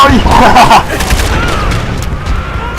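Gunfire in the Call of Duty: World at War video game, a loud burst of rapid shots at the start that fades into a lower rumble with a few quieter reports.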